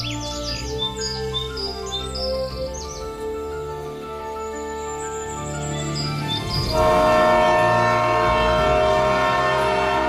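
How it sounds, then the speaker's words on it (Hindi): A train pulls into New York City. A horn and rolling rail rumble swell louder partway through, with birds chirping high above at the start. "दूसरी तरफ ट्रेन न्यूयॉर्क सिटी पहुंच जाती है।"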